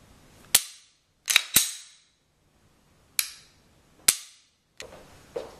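Sharp snapping clicks from a handgun during dry-fire trigger practice, six crisp close impacts in irregular spacing with short decays and quiet between them.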